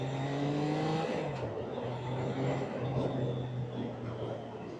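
Triumph Trident 660 motorcycle engine accelerating, a loud rising engine note that climbs through gear changes and holds steady, close by and continuous throughout.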